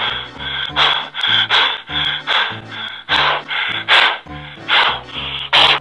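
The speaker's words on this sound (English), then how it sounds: "He even gives you breathing techniques for meditation." Rhythmic, loud breathing exercise for meditation: a series of sharp, forceful nasal inhales and exhales in quick repeated bursts, close up with no talking.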